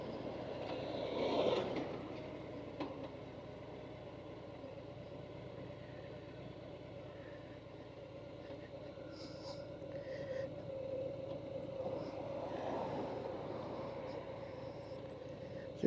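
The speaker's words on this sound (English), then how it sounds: "I will say that Reinhardt exhaust sounds absolutely nice" A Harley-Davidson Softail Fat Bob motorcycle idles through an aftermarket Reinhardt exhaust with a low, steady throaty rumble, close by, with a brief rev early on.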